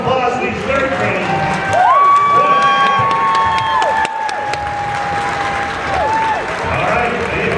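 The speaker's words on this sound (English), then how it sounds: "a little round of applause for these third graders" Crowd applause and cheering in a school gym during a boys varsity basketball game, mixed with shouts and whoops, with a held whistle-like tone and a voice talking over the noise.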